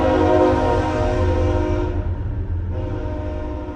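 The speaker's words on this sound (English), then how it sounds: "There's actually a train going by right now." A train rumbles past close by, a loud continuous roar with a sustained horn-like tone, steady throughout with no voices.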